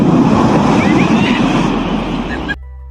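Ocean waves break heavily on the beach at Nazaré, a loud, continuous roar of surf with wind buffeting the microphone, cutting off abruptly near the end.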